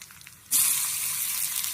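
Chopped onion drops into hot oil already seasoned with mustard seeds, cumin and asafoetida, setting off a sudden loud, hissing sizzle that holds steady after a quiet start, close by, with no talking.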